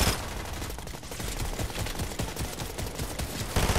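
Dense rapid gunfire from a Fortnite match in zero-build mode, a loud continuous fusillade of many overlapping shots packed close together with no gaps, stopping abruptly near the end.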